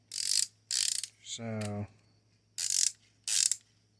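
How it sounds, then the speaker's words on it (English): Ratcheting screwdriver from a Mulwark 63-piece kit clicks in four short bursts of rapid ratchet ticks, close and crisp, with a brief spoken word in the middle and a low steady hum underneath. "It's got a nice ratcheting feel to it."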